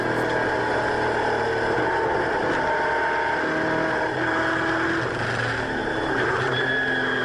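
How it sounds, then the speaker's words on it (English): Australian muscle car engine heard at a distance, a continuous mid-pitched drone with shifting tones as it works through downshifts, steady and moderately loud. "Oh man, those downshifts though."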